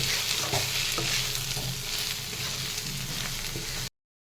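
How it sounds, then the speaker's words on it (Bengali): Turmeric and chili powder spices fry and sizzle in a pan, with a steady crackling hiss, spoon scrapes and stirring knocks, close and fairly loud, before it cuts to silence near the end. "দিয়ে খুব ভালো করে আবারও কষিয়ে নেব"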